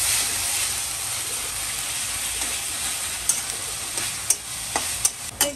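Minced meat (keema) frying in a pan with ginger, garlic and onion, a steady soft sizzle with a few sharp clicks of stirring near the end, heard without talk.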